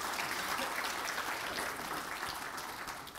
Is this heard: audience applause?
yes